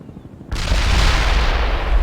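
An incoming mortar and artillery barrage in the strategy game World in Conflict bursts in after a half-second of quiet, a sudden loud blast swelling into a sustained rumbling roar of explosions with heavy low-end boom.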